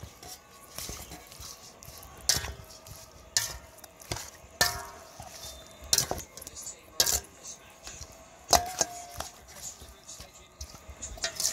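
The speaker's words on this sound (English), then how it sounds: "You have to stir properly guys and make sure all your seasonings" A utensil scraping and clinking against a bowl while seasonings are stirred into food, irregular close metallic taps and scrapes at a moderate level, with soft handling sounds in between.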